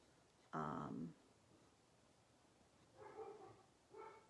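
A dog barks indoors: one short, fairly loud bark, then after a pause a quieter double bark, with little else around it.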